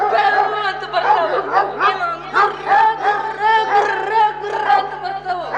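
A man in a Kannada comedy skit imitates a barking dog, giving a rapid run of loud, yappy vocal barks about ten times in a row, close to the listener and with no other talk.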